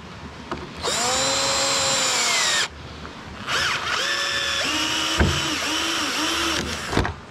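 A power drill drives screws into a wooden plank fixed to hard plastic drum material, its motor whining up in two long runs, then short stuttering pulses as a screw bites, close and loud.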